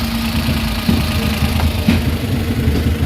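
A rebuilt Suzuki DA64 engine idles steadily close by, a low, even mechanical hum with faint knocking pulses and no talk.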